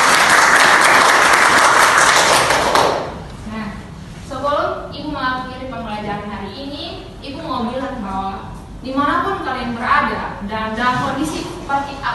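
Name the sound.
applause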